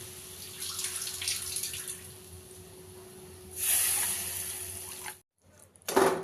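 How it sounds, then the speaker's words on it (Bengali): Water is poured from a bowl into a pot of mukhi curry, a steady close splashing pour that swells louder before stopping abruptly, followed by a brief final splash. "এখন আন্দাজ মতো 2 বাটি জল দিয়ে দেবো"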